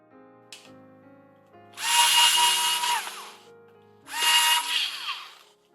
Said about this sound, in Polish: Drugi test to rozkręcanie i skręcanie zabawki.